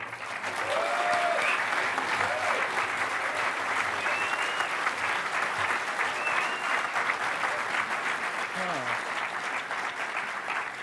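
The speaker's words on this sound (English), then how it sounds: "Let's give him a big round of applause." A large crowd applauds steadily and loudly for about ten seconds, with a few voices calling out faintly amid the clapping.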